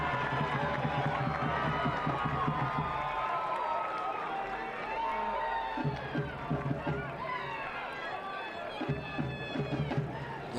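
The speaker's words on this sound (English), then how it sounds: "This Omaha crowd right behind its club, trying to fuel them to at least a point here this evening" A home crowd at an Omaha soccer match between Union Omaha and El Paso Locomotive FC chants and cheers with steady rhythmic drumming. The crowd noise is fairly distant and continuous, with a voice talking over it.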